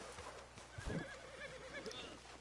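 A horse in Red Dead Redemption 2 Online gives a faint whinny while its hooves clip-clop underneath, a short neigh rising over quiet background sound.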